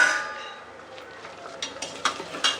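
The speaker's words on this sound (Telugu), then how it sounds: "ఉల్లిగడ్డలు అయితే ఆల్మోస్ట్ ఫ్రై అయిపోయాయి" Onions frying in a pan for a home-cooked Telugu goat head curry, a soft steady sizzle with a few light stirring clinks and scrapes toward the end, close up.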